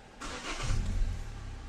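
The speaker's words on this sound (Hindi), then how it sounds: "गाड़ी को हम स्टार्ट करेंगे" A Hyundai Elantra with a transmission fault code P0753 is started up close: a brief crank, then the engine catches and settles into a steady idle.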